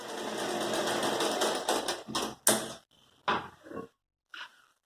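A sewing machine stitches a seam along a fabric crossbody sling bag, starting as a steady close whirr for about two seconds, then breaking into short separate bursts with pauses between them.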